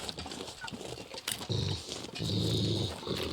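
Low growling from a dog in the survival video game The Long Dark rumbles in sustained swells, moderately loud, layered over soft in-game ambience.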